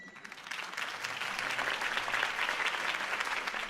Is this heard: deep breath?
no